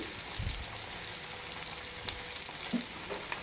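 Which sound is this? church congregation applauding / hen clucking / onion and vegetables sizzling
onion and vegetables sizzling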